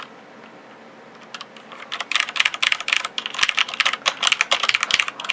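Fast typing on a mechanical keyboard with heavy black switches and an aluminium top plate, a dense run of close, crisp clacks with a deeper thock, starting softly and then continuing steadily.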